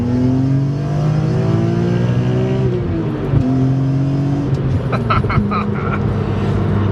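A BMW E46 M3 with an aftermarket intake revs hard and climbs through the gears, a loud raspy induction roar with pitch rising and dropping between shifts.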